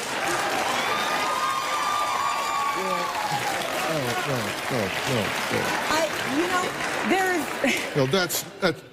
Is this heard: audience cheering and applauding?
yes